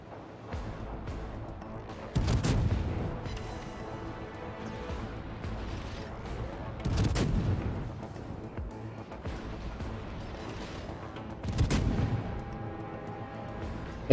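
Heavy gunfire in a naval combat video game on the Atlanta map. Loud booming salvos land at roughly five-second intervals over a continuous rumbling battle ambience.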